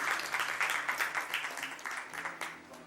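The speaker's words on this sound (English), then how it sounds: "Let's welcome him with a round of applause." An audience at a fireside chat on stroke prevention and hypertension gives a warm round of applause to welcome a speaker. The dense, steady clapping lasts throughout and is fairly loud.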